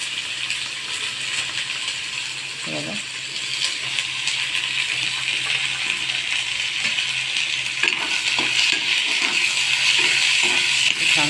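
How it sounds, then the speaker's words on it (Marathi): Onion frying in oil with cumin seeds makes a loud, even hiss that holds for about eleven seconds, with a few faint clinks and light stirring underneath. "कांदा छान आपल्याला तांबूस रंगावर करून घ्यायचा आहे"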